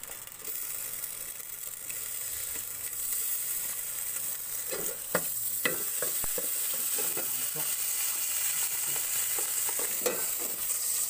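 Finely chopped sisig fries in margarine, a continuous sizzling hiss with scattered clicks and scrapes of stirring partway through, moderately close and without speech.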